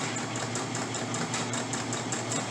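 Sewing machine stitching a fabric face mask, running continuously with a fast, even mechanical whir and rhythmic needle clatter, close and alone without talk.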